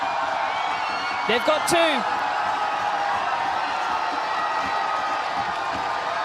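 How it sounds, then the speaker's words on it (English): A stadium crowd roars and cheers after a goal in an A-League match between Western Sydney Wanderers and Wellington Phoenix, a broad sustained wash of noise under a commentator's voice. "Listen to the crowd erupt."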